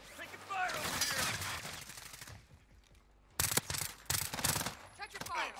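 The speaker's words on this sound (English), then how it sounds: "Taking fire over here!" Bursts of automatic gunfire in Call of Duty Warzone on Rebirth Island, a long stuttering volley followed by a pause and then several sharp, loud clusters of shots up close.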